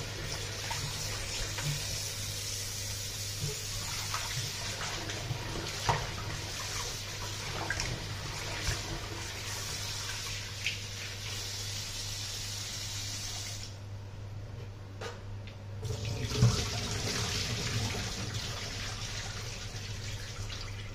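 Tap water runs steadily into a sink for a long stretch as fish are washed, with splashing and a short break partway through; no talking.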